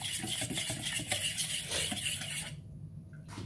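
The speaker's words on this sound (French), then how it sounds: "Là, je mélange vite fait à la cuillère." A spoon stirs a flour mixture for quick bread in a bowl, giving soft, rapid scraping and swishing strokes up close before a brief pause.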